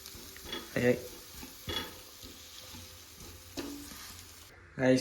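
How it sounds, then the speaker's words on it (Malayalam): Mashed potatoes being stirred into a cutlet filling in a pan: soft scraping and stirring with occasional spoon clinks against the pan, intermittent and close, under light background noise. "അങ്ങനെ നമ്മൾ ഉരുളക്കിഴങ്ങ് എടുത്ത് ഇതെല്ലാം സ്മാഷ് ചെയ്ത് എല്ലാത്തിൻ്റെ കൂടെ മിക്സ് ചെയ്യാം"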